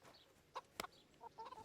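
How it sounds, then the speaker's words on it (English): Chickens in the medieval role-playing game Kingdom Come Deliverance give faint, scattered clucks and short squawks, a few brief calls spread across a quiet moment with no talking. "Hello, chickens."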